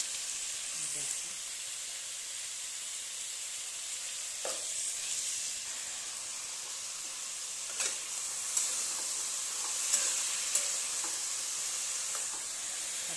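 Potatoes fry in hot salted oil, giving a faint, even hiss of sizzling with a few soft stirring knocks scattered through.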